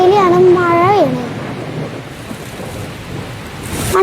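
Thunder and heavy rain outside a house in a Malayalam comedy skit: after a brief voice at the start, a dense, steady rumbling wash of rain and low thunder fills the rest of the clip.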